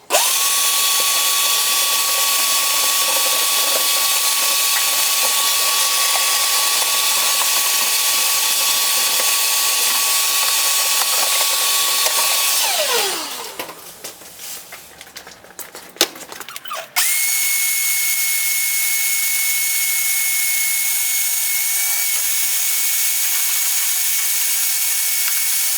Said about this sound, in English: So I'm gonna go ahead and vacuum this